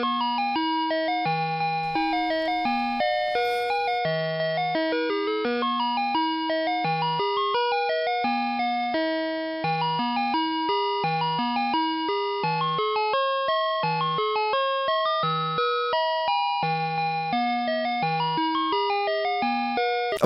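A Digital 2 musical doorbell chimes through one of its built-in songs, a bright electronic melody of clear, evenly paced notes. It plays loud and alone, without pause, for about twenty seconds.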